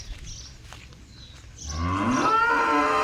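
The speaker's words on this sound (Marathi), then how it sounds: "ती एक मोठी गाय जी आहे ती दूध देणारी ती कशी ओरडते" A dairy cow moos once, loud and close, a long low bellow that rises and holds after a quiet moment of faint outdoor background on a farm.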